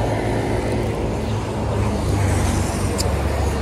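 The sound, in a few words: car passing by on the road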